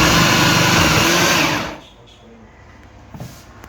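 A kitchen appliance shreds onion with a loud, high motor whir for about a second and a half, then cuts off abruptly into quiet room noise with a small clunk.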